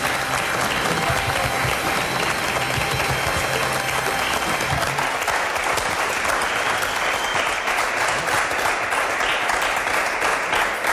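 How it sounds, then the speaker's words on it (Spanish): Studio audience applause for Rafa Guerrero on a Spanish TV talk show: loud, sustained clapping from a crowd that fills the whole stretch, with faint murmurs and a low rumble beneath it early on. "¡Un aplauso para Rafa, hombre!"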